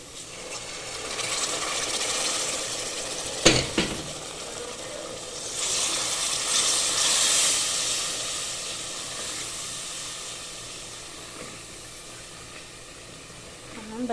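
Shiro mixture with berbere simmering in a pan on the stove, giving a soft steady hiss and sizzle, with a brief clatter and a stronger steamy burst partway through, no talk.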